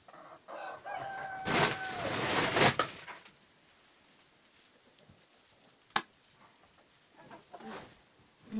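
A rooster suffering from a feather-louse infestation crows once in a farmyard, a drawn-out call near the start, followed by quieter background sounds and a single sharp knock.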